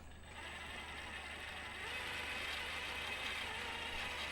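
An HPI Racing Venture SBK RC car's electric motor, with the car raised on blocks, is given throttle: a steady close whirring hum that swells and holds after the first couple of seconds, with no talking.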